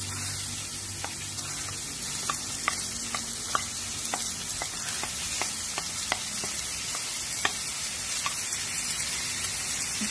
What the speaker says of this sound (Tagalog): Ayan, magigisa ko guys ng sibuyas.